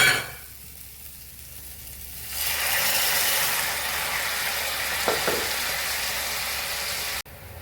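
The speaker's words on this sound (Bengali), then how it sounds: "এবারে আমি দিয়ে দিচ্ছি গরম জল।" Hot water poured into a pan of sizzling rita fish curry cooked in very little oil with a little sugar, a low simmer jumping abruptly into a loud, steady hiss and bubbling roar that holds close for several seconds before cutting off.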